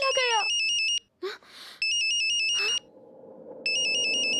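Electronic phone ringtone sounds in repeated bursts, loud and close, with short gaps between rings and a brief vocal sound in one pause, in a tense scene where a call fails to connect.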